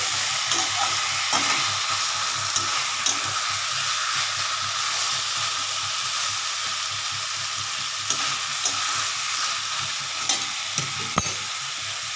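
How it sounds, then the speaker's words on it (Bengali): Banana stem curry with Gobindobhog rice and potato is stirred in a pan, giving a steady frying hiss with soft, repeated scraping stirs, close and moderately loud, with no voices. "চালটাও আমি দিয়ে দিচ্ছি চালটা লাস্টেই দেবো এটা আমি আরেকবার একটু নাড়ছি"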